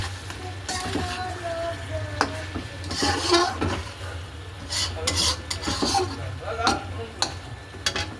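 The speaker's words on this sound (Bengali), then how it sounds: "এই যে চিকেন কষাটা এখনও হচ্ছে এখনও জল দিইনি" Chicken kosha cooks in oil in a pan, with a soft sizzle under repeated scraping strokes of a spoon stirring against the pan, close by, over a low steady hum.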